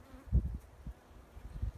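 Honey bees hum low and close inside a hive box on a cool day of about 7 °C, the drone swelling in a few soft pulses with no voices over it.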